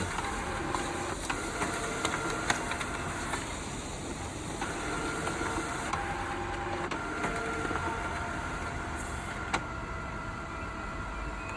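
A printer runs continuously, feeding and printing pages with a steady mechanical whir and faint clicks and thumps, close and moderately loud, with no talking.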